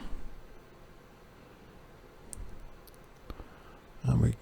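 Plastic lugs are pulled out of a hard drive caddy, a quiet stretch of faint clicks ending in a sharper close plastic snap and rattle.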